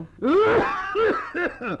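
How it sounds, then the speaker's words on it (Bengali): A man in a Bengali radio drama gives a run of harsh, voiced coughs, three or four close, loud bursts in quick succession that shade toward a strained, throaty splutter. "এই কাশি কাল হলো বাবু মশাইরা।"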